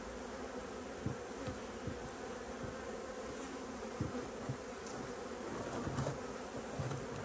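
Honeybees at an apiary hive hum in a steady, dense drone, with a few louder buzzes of individual bees passing close by.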